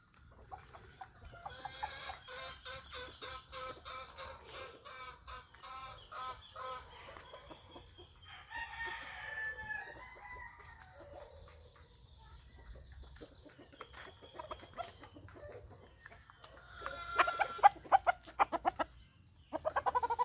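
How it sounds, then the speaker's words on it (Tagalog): Young roosters and hens being fed in the morning cluck in rapid, chattering bursts, with occasional crowing and pecking sounds, fairly faint and close, busier toward the end. "Nagpatukaan ako sa mga manok guys."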